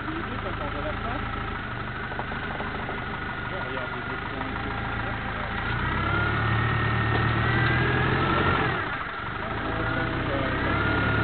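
Trial motorcycle engine running outdoors, idling with a steady mid-low drone that swells into revs around the middle, with people talking over it.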